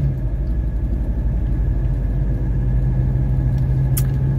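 A 1985 Mercedes 300CD drives along a road with the air conditioning on low: a continuous low engine and road rumble heard from inside the car, steady and moderately loud.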